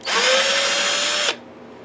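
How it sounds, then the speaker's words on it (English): A handheld power drill whirs loudly and steadily at close range while being used on a Canadian-made Explorer-style electric guitar, then cuts off abruptly and leaves quiet room noise. "I'm going to use this drill."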